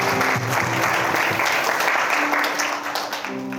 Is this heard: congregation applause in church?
yes